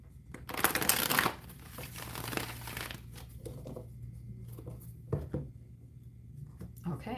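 Tarot cards riffling and shuffling in a quick burst near the start, followed by softer handling and tapping of the deck, with a voice speaking quietly in the background.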